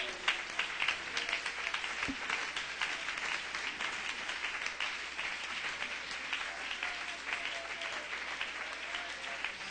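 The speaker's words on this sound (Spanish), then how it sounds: "Dele ese aplauso al Señor, que lo merece" A church congregation gives sustained applause to the Lord during a sermon, steady dense clapping filling the room at moderate level for nearly ten seconds.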